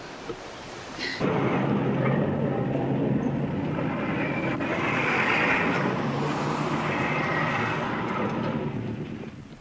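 A single-pilot light aircraft in flight sets up a sustained droning engine roar after a brief quieter moment. The roar swells slightly midway, then holds steady and loud with no talk.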